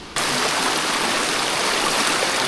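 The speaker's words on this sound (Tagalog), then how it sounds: "Narinig na namin yung falls." A mountain waterfall on a long hike makes a loud, steady rushing roar that fills the scene after a brief quiet start, heard close and without voices.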